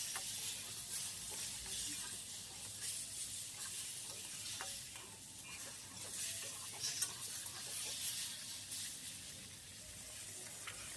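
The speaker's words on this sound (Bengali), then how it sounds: "ভালো করে মশলাটার সাথে আলু আর বেগুনকে কষিয়ে নেব।" Potatoes and eggplant being sautéed and stirred with a green chilli and cumin paste in a pan, with a steady soft sizzle and occasional scraping stirs throughout.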